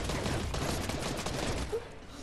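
Rapid bursts of gunfire from the video game Fortnite form a dense, continuous crackle that stays fairly quiet and distant-sounding throughout.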